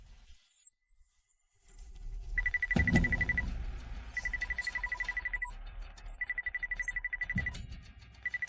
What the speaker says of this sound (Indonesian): Coba telepon Jessica.